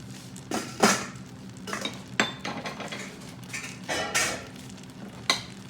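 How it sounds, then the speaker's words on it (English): Snow peas being stirred in a Power XL cooker, with a utensil scraping and clinking against the pot in several uneven bursts over a low steady hum, close up and with no voices. "I'm gonna just stir them up for a minute and just get them nice and good"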